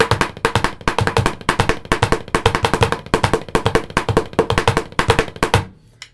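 A drum kit plays a fast exercise of singles with the right hand and right foot struck together, a close, steady stream of crisp strokes and kick hits that ends with a ringing decay.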